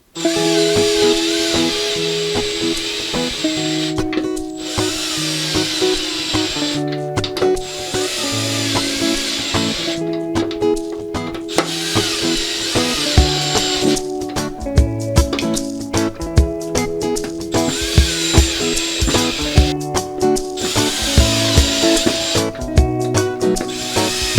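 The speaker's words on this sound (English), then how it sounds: "I'm going to cheat and use a screw gun." A power screw gun whirs repeatedly in bursts, driving screws into wood with grinding, rubbing noises between runs during a skateboard build, close and loud.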